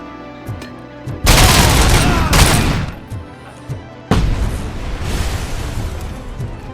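Thrown explosives blow up in Robocop Rogue City, two heavy broadband blasts about three seconds apart, each followed by a rumbling roll, layered over ongoing gunfire and game ambience.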